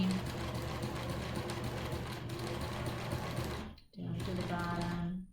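A sewing machine runs steadily, stitching a seam on a cloth face mask, with a dense mechanical whir that stops briefly near the end before starting again.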